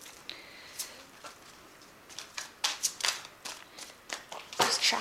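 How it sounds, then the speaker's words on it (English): Tarot cards shuffled by hand, a run of quick, crisp riffling flicks and soft slaps with uneven spacing, close and moderately quiet, growing denser toward the end. "Just shuffle, and I'm gonna"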